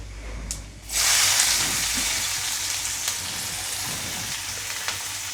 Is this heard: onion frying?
yes